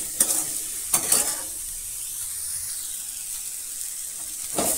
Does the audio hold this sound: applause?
no